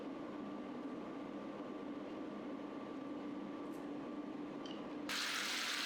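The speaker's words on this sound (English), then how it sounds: "Add in enough water to almost the top of the ingredients." Water pours steadily into a cooking pot over pork pieces and sea cucumber seasoned with soy sauce, white pepper and Chinese cooking wine, a continuous close rushing stream that grows brighter and louder near the end.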